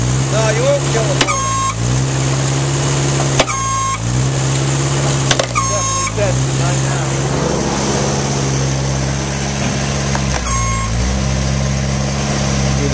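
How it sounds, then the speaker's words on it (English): Engine of a wood splitter running steadily under load, a continuous loud drone with several brief sharp interruptions over it. "See the intake pull, when it hits the load, it'll pull a little bit more."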